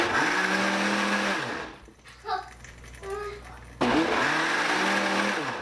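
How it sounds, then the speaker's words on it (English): Blender whirring through pancake batter with milk, loud steady motor buzz that cuts out for about two seconds while a voice speaks, then starts up again just as loud. "I'll just unplug the blender and work everything."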